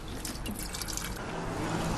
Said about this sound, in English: And then we're just going to fill it up with water.